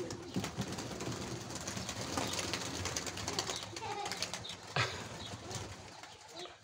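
Pigeons coo softly over the rustle of an outdoor scene, with wings occasionally flapping and a person speaking faintly in the background.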